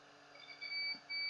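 A steady electronic continuity beep from a multimeter testing a shorted diode on a Dell Inspiron 1545 laptop, a thin high-pitched tone that sounds in two sustained stretches with a short gap, over faint background hiss.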